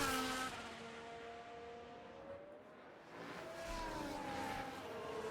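Formula 1 cars in the F1 Manager 2024 video game race past in the distance, faint engine whines sweeping up and down, including a Ferrari and a lapped car.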